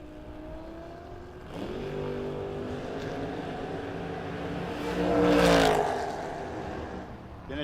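A 1995 Ford Mustang drag racing against another car at a no-box 660 shootout, engines droning and whirring, then a louder roaring surge that swells and fades, heard from a distance.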